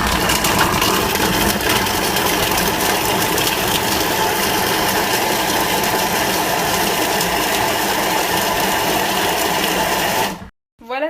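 A Thermomix chops pieces of comté cheese for 10 seconds at speed 5 with the lid and spatula in place. A loud, steady motorised whir runs for about ten seconds and then cuts off abruptly.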